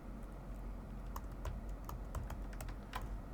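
Java code typed on a computer keyboard, a quick irregular run of close, clear key clicks with no voices.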